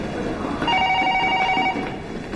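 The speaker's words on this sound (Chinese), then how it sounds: "接电话" A telephone rings with a bright electronic trill for about a second, mid-loud within a room, under a faint background murmur.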